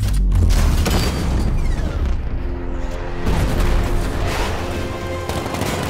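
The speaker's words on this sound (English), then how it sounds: "Sixty millimeter cannon operational." Heavy sixty millimeter cannon fire from Batman: Arkham Knight booms continuously amid mechanical clatter and rumbling, a dense, loud barrage of game-style artillery.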